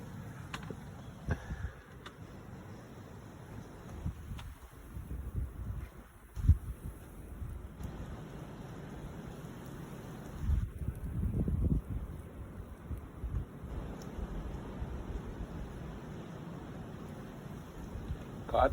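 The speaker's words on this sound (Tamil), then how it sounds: "காற்றும் சற்று வேகமாக வீசிக்கொண்டிருக்கிறது." Strong wind, around 30 mph, gusts through trees during a severe snowstorm in America, heard as a low, uneven rumble with some microphone buffeting, fairly faint and continuous.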